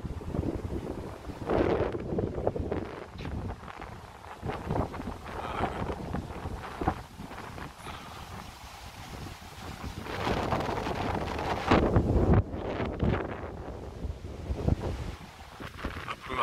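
Strong gusting wind of typhoon Lingling roaring outdoors, a loud continuous rush that swells and buffets against the microphone, rising to heavier gusts later.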